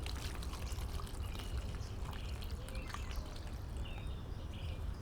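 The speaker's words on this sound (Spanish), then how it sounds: "Para aflojar toda esta tierra, vamos a ir con agua." Water pours and trickles steadily onto loose potting soil around basil plants being freed from a hanging bottle planter, a continuous close gurgling wash with faint birdsong behind it.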